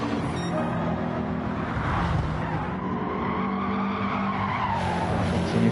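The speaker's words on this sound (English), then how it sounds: "Continues to lead, squealing tyres around that first corner." Cars in a GT2 racing game corner: loud, sustained tyre squeal and skidding over a steady engine roar, the pitch sweeping as the cars turn through the bend.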